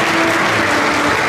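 Brief, dense burst of loud applause from the audience at a sports awards ceremony in Olsztyn, a continuous wash of clapping with no break.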